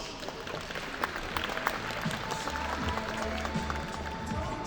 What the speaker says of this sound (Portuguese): Eu peço também uma salva de palmas.